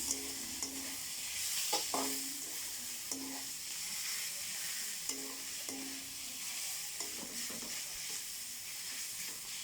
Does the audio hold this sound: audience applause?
no